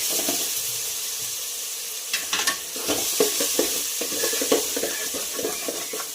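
A spoon scrapes and clinks as onion-garlic masala and salt are mixed into food in a sizzling pan, with steady frying hiss and a run of stirring knocks in the second half.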